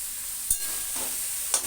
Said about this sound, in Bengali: এবার নাড়িয়ে চাড়িয়ে এটা সুন্দর করে নাড়িয়ে চাড়িয়ে এটা ঢেকে ঢেকে অল্প আঁচে সুন্দর করে কষিয়ে কষিয়ে আজকে মাংসটা রান্না করব